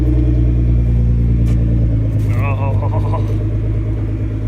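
A 600 whp Nissan GT-R idles while it warms up, a deep, steady engine rumble close by with a short rise in revs midway and a voice briefly over it.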